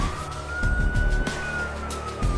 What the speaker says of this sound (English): The distant sound of sirens was drawing closer and closer.